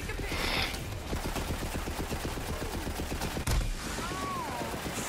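Gunfire in the Borderlands 3 shooter, a steady rapid stream of automatic shots over a dense action-game backdrop, with a sharp crack near the end.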